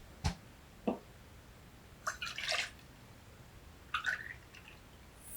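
Pineapple juice is poured into a jigger for a rum cocktail in a few short, quiet splashes and trickles separated by silence.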